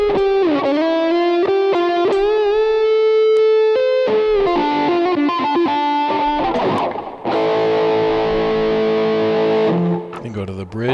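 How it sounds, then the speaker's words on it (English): A walnut Stallion prototype electric guitar rings loud and close through heavy distortion stacked with overdrive, with sustained saturated chords and notes shifting through several held passages and no voices. "And then really overload it with the overdrive in front of that."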